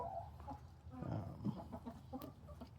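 Backyard chickens, including speckled Sussex hens, clucking softly and steadily nearby, a low murmuring flock with occasional sharper notes.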